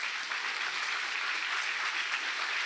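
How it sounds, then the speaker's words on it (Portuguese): Steady congregational applause for the Lord at a church service, dense clapping heard at moderate level without pause. "Aplauda bem forte o Senhor."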